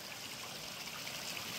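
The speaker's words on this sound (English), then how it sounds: "now that I have the waterfall there, the water's flowing" Water flowing over a backyard pond waterfall into clear water above gravel, a steady broadband rush and trickle with no break, moderately close and fairly faint.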